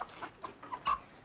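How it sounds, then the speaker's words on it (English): A chicken clucks in a short run of quick, soft cackles, fairly close and alone with no talking over it. "What'll I do with this chicken"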